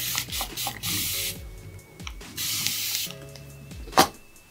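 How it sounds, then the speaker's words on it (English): A spray bottle spritzes a micellar water mix onto natural hair in several quick bursts of hiss, spaced apart with small handling clicks between them, close and moderately loud, without speech. "So I'm just gonna spritz my micellar mix again."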